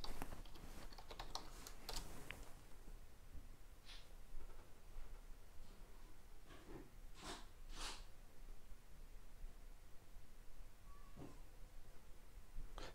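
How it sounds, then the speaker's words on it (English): Faint keystrokes on a computer keyboard as a password is entered during Windows 10 startup on a Raspberry Pi 4, a scattered, irregular run of soft taps in a quiet room. "pop your password in"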